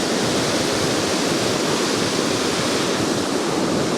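A river at high volume rushes in a loud, steady broadband roar, close and unbroken with no other sounds over it.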